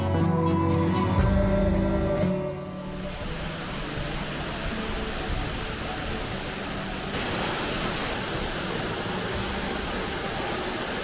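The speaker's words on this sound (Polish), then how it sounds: "dotarliśmy do wodospadu Kamieńczyka" Steady rushing water of the Kamieńczyk waterfall in the Karkonosze mountains roars continuously, a broad even wash of falling water that grows slightly brighter partway through, with no voices.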